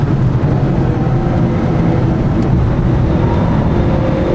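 Citroën Saxo race cars circulate on the Magione track, a loud, continuous blend of engine roar and road rumble with no talk.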